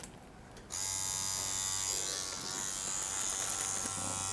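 Permanent makeup machine fitted with a 3 round needle, power supply set around 9, buzzing steadily and close up after switching on, a continuous electric hum during ombre brow work with no talking.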